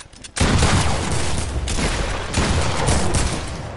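Video game gunfire erupts after a brief quiet start into a loud, dense burst of rapid shots that keeps rattling continuously, with a few heavier booms mixed in.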